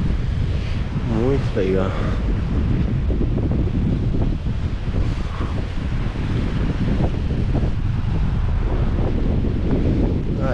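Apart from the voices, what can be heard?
breeze blowing on the coastal trail at Garopaba beach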